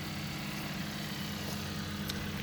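A Hyundai Tucson facelift 1.6 gasoline engine idles after start, a faint, steady low hum with no change in pitch.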